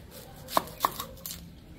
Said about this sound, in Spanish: Vamos a tratar de hacer pedacitos de cebolla.